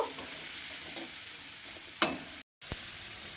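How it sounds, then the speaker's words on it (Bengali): Chopped onion sizzles gently in a pan as it is stirred, a continuous hiss broken by a couple of sharp utensil scrapes and a brief dropout. "পেঁয়াজটা ভালোভাবে নাড়ি চাড়ি নেব খুব বেশি কিন্তু ভাজবো না"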